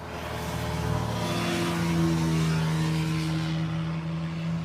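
A 1984 Liftall forklift engine runs steadily up close, a loud continuous drone with a rising-and-falling tonal hum as it revs slightly, no voices.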